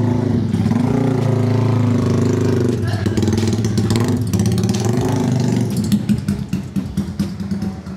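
A Yamaha 125ZR two-stroke motorcycle engine runs loud and close, holding a steady drone before rising into choppy, pulsing revs toward the end, while voices are heard over it.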